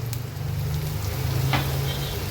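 Grated red pumpkin hitting hot oil in a pan with turmeric, giving a steady broadband sizzle with a low hum beneath, close and continuous with no talking.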